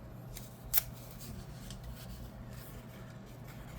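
Scissors make a single crisp snip through paper while a cluster for a junk journal is trimmed, close and brief against a quiet background.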